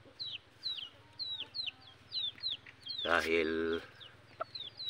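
Captured labuyo (wild junglefowl) rooster giving a string of short, sharp clucks at a steady pace, close by, then a louder drawn-out call before the clucking returns; someone speaks briefly.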